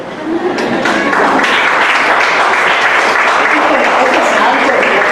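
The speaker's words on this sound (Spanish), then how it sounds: "Denle palmas al Señor por ello" A church congregation applauds during a sermon, a loud, sustained roar of clapping that swells quickly and holds steady to the end.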